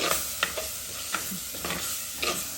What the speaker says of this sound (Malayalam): അതൊന്ന് നന്നായിട്ട് ഇതിൽ മിക്സ് ചെയ്യാം